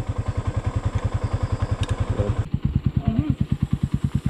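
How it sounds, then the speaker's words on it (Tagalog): A Legendary Alpha motorcycle engine idles close by with a steady, rapid train of deep, even thumps that run unbroken from start to end, loud and alone with no talk. "Si Boss Jeric, ito yung motor niya, oh"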